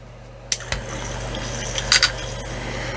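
Water from a tap runs steadily while a hobby paint mixer is rinsed off, with a few sharp knocks and splashes over the constant close hiss of flow.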